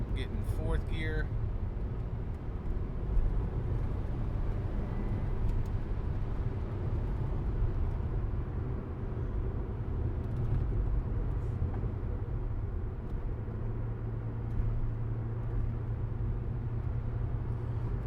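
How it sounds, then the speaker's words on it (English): A 2001 Audi S4 Avant with a 6-speed manual drones steadily from inside the car while being downshifted through the gears, its low engine tone holding even and dropping to a new level partway through. "Go ahead and downshift to fifth, slight pull. Go ahead and get in fourth gear."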